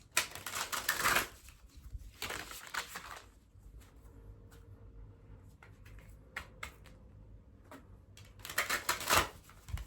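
Oracle cards being shuffled in several quick riffling bursts, separated by quieter stretches of light tapping and handling, close up and fairly soft.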